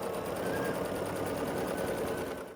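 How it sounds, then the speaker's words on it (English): A sewing machine stitches quilt block pieces together in a fast, even mechanical whir close by, running steadily for a couple of seconds before stopping. "then we're just going to sew this together"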